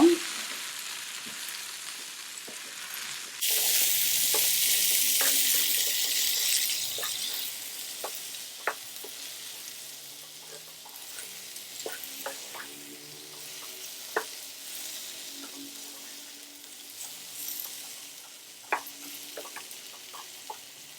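Plantain fry (vazhakkai) stirred in a pan, a loud burst of sizzling that settles into a softer frying hiss, punctuated by scattered sharp clicks and scrapes of a spatula against the pan.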